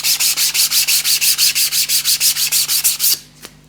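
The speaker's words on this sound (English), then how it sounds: "I need to sand this all over, and I'm using one of these Sear sanding sponges for this." A sanding sponge rubs rhythmically over a foundry pattern, making about twenty even, loud back-and-forth scrubbing strokes that stop abruptly near the end, followed by a single faint tap.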